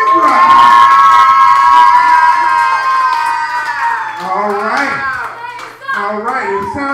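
Crowd at an urban open mic night in a bar cheers, whoops and shouts loudly for a comedian, with sustained high-pitched yelling that thins out toward the end.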